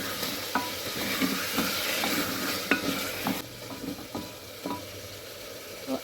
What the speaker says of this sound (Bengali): আদা রসুন বাটাটা দিয়ে দিলাম। এবার যতক্ষণ না পর্যন্ত কাঁচা গন্ধটা না যাবে ততক্ষণ পর্যন্ত এটা কষতে হবে।